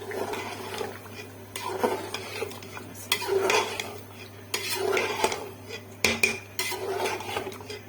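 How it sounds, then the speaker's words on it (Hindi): Spinach going into a pot during a home-style saag with methi and palak, with repeated clattering of a metal spoon against the pot and stirring scrapes, close and moderately loud, no talk. "अब यहाँ पे मैं डाल रही हूँ अपना पालक।"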